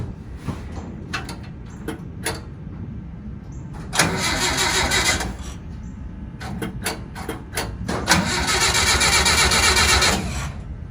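An old rusty VW Bus panel van engine cranking in bursts, with a few short tries and then longer cranks that catch and run, loud and close with no talking.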